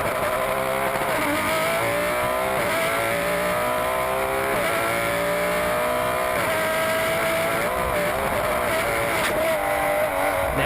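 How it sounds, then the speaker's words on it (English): Porsche GT3 Cup race car engine held at full throttle at the Sandown circuit, a loud, sustained high-pitched roar heard from onboard with gear-change dips and rising revs. "on the onboard there, we can also hear that Bobick maintains full throttle for a long period of time"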